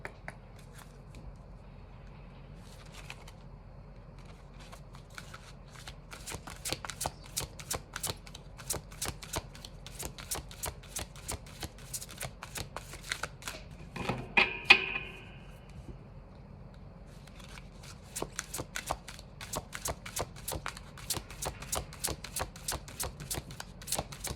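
Tarot cards being shuffled and drawn during a card reading: dense runs of crisp, rapid card flicks and riffles, with a short pause and a soft rustle midway before the quick flicking resumes. No voices.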